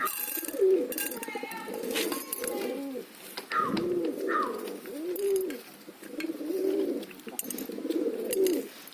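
Pet pigeons cooing in a rhythmic series of soft, throaty, rolling calls, close by and repeating about every second or so, with faint voices in the background.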